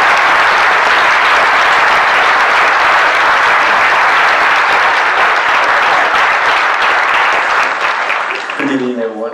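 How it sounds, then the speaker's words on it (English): An audience at a bird photography awards presentation breaks into sustained, loud applause with a dense wash of clapping. The clapping fades slightly at the end as a voice begins to speak. "so let's give him a round of applause."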